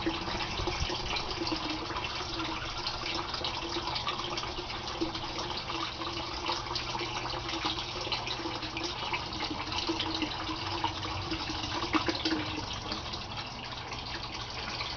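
Water draining fast from an aquaponics grow bed through a 1-inch PVC pipe, a continuous close gushing and bubbling rush that holds steady and loud throughout, with no talking.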